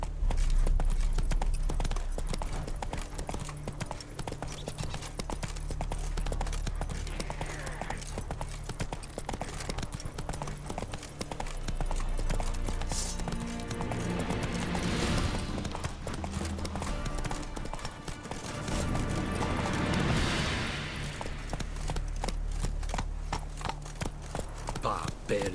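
Galloping hooves of Roach, a horse in The Witcher 3, clatter steadily for the full stretch beneath game music and rushing ambience, with brief voice snippets.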